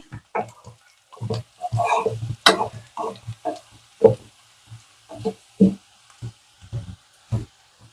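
Garlic, asafoetida and turmeric frying in a pan while being stirred, heard as a series of short, irregular scraping strokes and light clatters, close up, with quiet gaps between them and no talking.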